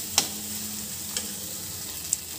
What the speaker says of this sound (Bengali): ছোলা দিয়ে আরও একবার ভালো করে নেড়ে মিশিয়ে নেব।